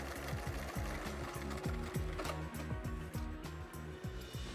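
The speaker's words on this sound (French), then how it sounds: "Et pour fermer, je vais faire toute une surpiqûre sur tout le contour de la housse." A sewing machine topstitches around the edge of a fabric chair cover, its needle hammering in a steady fast rhythm that runs close and continuous with no talking.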